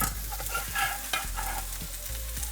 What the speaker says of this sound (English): now I'm gonna add the garlic and the ginger all at once